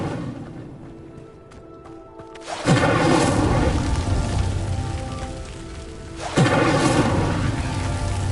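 Incendio fire spell in the game Hogwarts Legacy bursts into a loud roaring whoosh of flame that sustains, then a second eruption follows a few seconds later, dense and close with no talk.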